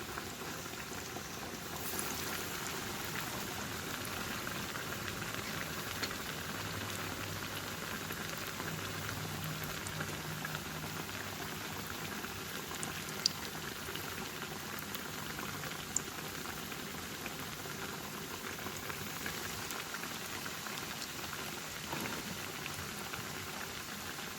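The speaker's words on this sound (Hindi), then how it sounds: "और इसको मीडियम हीट के अंदर फ्राई करेंगे" Potato slices frying in a pan over medium heat, giving a steady, even sizzle that hums along quietly and unbroken, with no voices over it.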